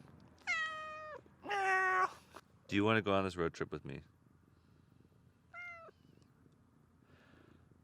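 A cat meows in the desert near the Grand Canyon, giving several loud, drawn-out cries, then a quieter one after a pause, with someone talking in between.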